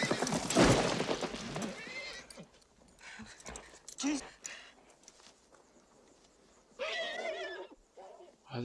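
A horse neighs loudly and close with clattering hooves in a scene from the 1992 Western film Unforgiven, followed by shorter whinnies and snorts, with voices calling out between them.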